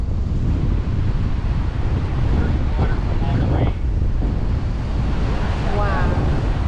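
Constant roaring wind buffets the microphone while ocean surf breaks at Schoodic Point on a cold, overcast day, a dense, unbroken rumble with faint voices briefly audible under it.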